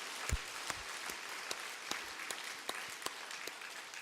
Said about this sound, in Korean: 오늘 처음 나오신 분들 인생의 열매 맺도록 우리 한번 큰 박수 보내주세요